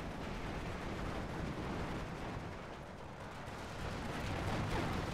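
B-26 bombs exploding in the war game Steel Division 2 make a dense, continuous rumble of overlapping blasts, loud and steady across the whole stretch without any talking.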